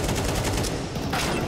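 Wallbang shots ring out in a Counter-Strike 2 match, a loud, dense burst of rapid gunfire packed into a moment with no pause.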